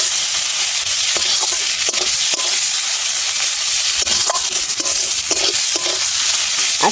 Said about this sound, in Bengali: এবার আমি নেড়ে চেড়ে নেবো ভালো করে,